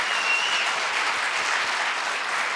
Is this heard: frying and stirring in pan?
no